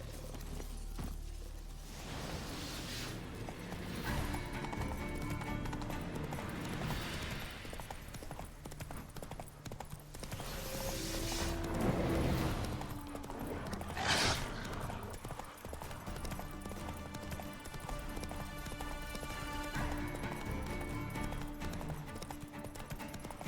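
Roach the horse in Witcher 3 moving along with steady clip-clop hoofbeats under game music and ambience, plus a few louder bursts partway through; no voices.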